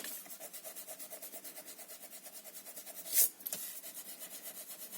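Pencil marks being erased from paper with a rubber eraser during a card and mini album craft project: steady, rapid back-and-forth rubbing strokes in a regular rhythm, close and fairly soft, briefly broken by a sharper scuff midway.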